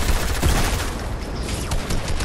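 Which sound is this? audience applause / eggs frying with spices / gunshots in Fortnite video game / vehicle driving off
gunshots in Fortnite video game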